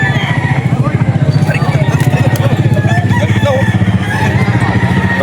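A Henny gamecock rooster crows at a busy poultry market in Bocaue, its call mixed with other fowl clucking, an engine rumbling and voices chattering close by throughout.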